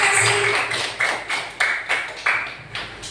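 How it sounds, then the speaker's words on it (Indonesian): Applause from a classroom of students for a classmate during a lesson, a run of quick, fairly close claps that fades out, with no talking. "Oke, tepuk tangan buat Lavina."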